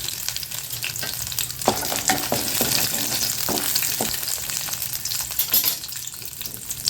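Garlic and chili frying in a little oil for onion chutney, a continuous loud sizzle with occasional scraping stirs and light clinks of a spoon against the pan, no voices.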